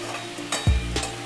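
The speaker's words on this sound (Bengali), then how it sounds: "ভেজে নিয়ে কিছুক্ষণ ভাজতে থাকবো" Crushed garlic and onions fry in a pan at home, a steady sizzle with a few louder stirring scrapes and bursts over about a second, close and fairly quiet, with no voices.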